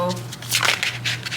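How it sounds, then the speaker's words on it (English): Oracle cards shuffled by hand in a quick, close riffling burst lasting about a second. "Let's shuffle out a few more Oracle for pile"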